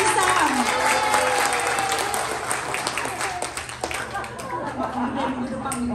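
A crowd claps loudly and steadily in warm applause, the clapping thinning slightly midway while a voice talks over it.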